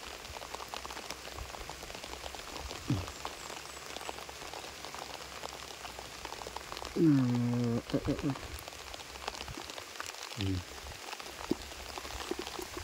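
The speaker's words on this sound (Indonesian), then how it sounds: "hujan mas bro deras" Heavy rain falling outdoors during fishing with a scoop net, a steady close hiss of drops, with brief splashes and handling noises partway through.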